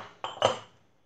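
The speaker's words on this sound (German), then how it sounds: "die Tassen hier zur Seite" Ceramic cups pushed aside on a kitchen counter give two quick close clinks a moment apart, then fade into near silence.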